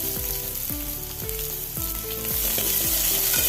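Thinly sliced onion hits hot oil with spluttering mustard seeds for an ivy gourd thoran, giving a steady close sizzle and crackle that runs the whole time under a tonal background, with no voices.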